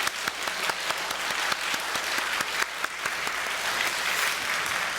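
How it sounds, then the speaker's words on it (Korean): Sustained applause from a church congregation during a Sunday joint worship service, dense steady clapping with sharp individual claps standing out, filling the whole stretch without speech. "우리 박수로 격려하도록 하겠습니다"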